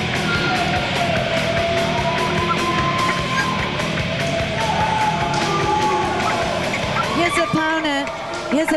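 Crowd at a December 1995 wrestling show reacting with mixed feelings to the wrestler Renegade, a continuous din of murmuring and scattered shouts that fills the arena, with an announcer's voice over it.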